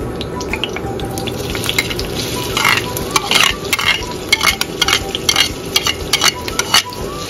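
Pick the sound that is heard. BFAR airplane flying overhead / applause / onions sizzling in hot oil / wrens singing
onions sizzling in hot oil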